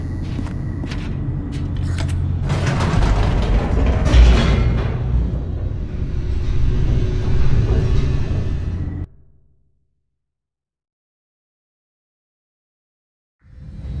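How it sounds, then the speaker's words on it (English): An elevator descending in The Stanley Parable: a loud, steady mechanical rumble with whooshing rattles builds for about nine seconds, then cuts off abruptly into silence before a low rumble returns at the very end. "The elevator raced downward"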